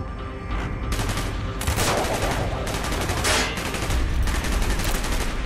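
Rapid bursts of automatic gunfire and overlapping shots rattle continuously in Call of Duty: Black Ops combat, loud and dense throughout with no pause.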